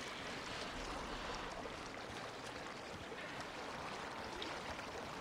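Boat gliding across water in Assassin's Creed Origins, a steady, continuous wash and rush of water against the hull with no breaks, close and fairly loud throughout.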